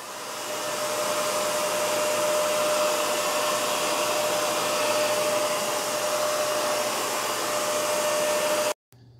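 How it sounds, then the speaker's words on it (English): Shark CarpetXpert StainStriker upright carpet cleaner running in quick-dry, suction-only mode: a loud, steady motor whine and airy rush holds constant for about nine seconds, then cuts off abruptly. "Now it's not going to put solution down. It's only drying."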